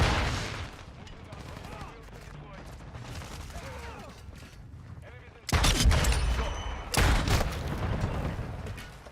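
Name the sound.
gunfire in Plasma sandbox video game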